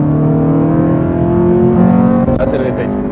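A Honda Civic Type R FN2 engine revs hard under acceleration, a loud, rising tonal drone heard from inside the car, with a brief shift in pitch near the end and voices faintly underneath.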